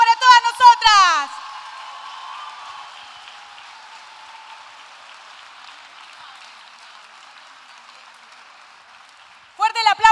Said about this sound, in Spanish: Fuerte el aplauso para todas nosotras.